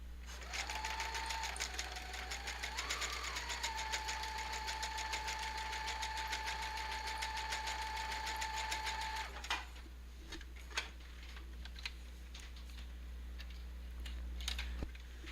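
A sewing machine runs a steady whirring stitch while sewing junk journal pockets, a sustained mechanical hum for several seconds before stopping, followed by faint handling clicks and rustles.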